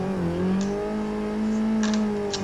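A car engine pulls hard during a lap at Sportsland Yamanashi with no handbrake used, a steady rising engine tone held close and loud throughout, with a few brief high squeals near the end.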